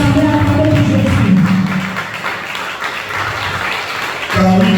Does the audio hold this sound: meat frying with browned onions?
no